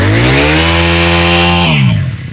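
Honda four-stroke brush cutter engine with a 35 mm shaft, running steadily and loud at a smooth, quiet-toned idle hum, then cutting off near the end.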